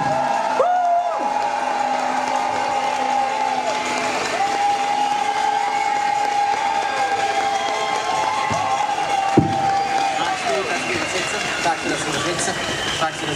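An audience at an outdoor rally applauds to welcome a speaker, a dense, sustained wash of clapping and cheering with a steady droning tone underneath and a sharp knock near the end.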